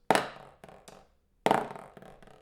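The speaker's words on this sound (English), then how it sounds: "sounding as if there's an accent on the beginning of the roll" Two bursts of orchestral snare drum buzz roll, each starting with a loud hard accent that quickly fades, separated by a brief silence.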